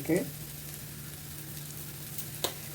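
Turmeric powder sautéing in a little oil over a low simmer. Soft, faint sizzle that is short and steady, with a brief clink at the start and another near the end.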